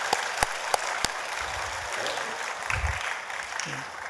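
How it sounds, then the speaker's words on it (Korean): A church congregation applauds its elders during an evening worship service, a dense, steady roomful of clapping with a few sharper claps standing out near the start. "우리 교회의 기둥과 같은 장로님들을 위해서 다시 한번 큰 박수 부탁드립니다."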